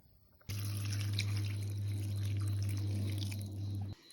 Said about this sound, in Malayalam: ഇപ്പം നന്നാക്കി വൃത്തിയാക്കി എടുത്തിട്ടുള്ള ചുരുളിക്കൂമ്പ് ഞാൻ വെള്ളത്തിലിട്ട് നന്നായി കഴുകി ഒന്ന് എടുക്കുകയാണ്